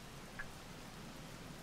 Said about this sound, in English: I guess I just gotta wait out the rain.